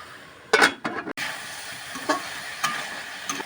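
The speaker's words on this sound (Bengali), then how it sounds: "আমি সবজিটা নেড়ে নেব। আমি 2-3 মিনিট কষায় নেব ভালো করে।" Vegetables with chilli powder and spices are stirred in a pan over a soft frying sizzle, with a few sharp scrapes and clinks of the spoon against the pan close by.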